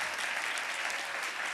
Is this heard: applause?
yes